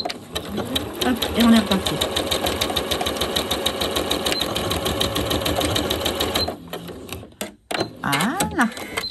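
A sewing machine stitches a top in a rapid, rhythmic mechanical clatter for several seconds, then stops and restarts briefly, while someone speaks over it.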